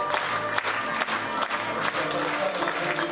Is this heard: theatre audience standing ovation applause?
yes